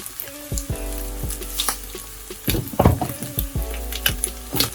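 Scrambled eggs frying in a pan while being made for chicken egg fried rice, a steady close sizzle broken by several sharp scraping and tapping bursts as the eggs are broken up and stirred, with no talk.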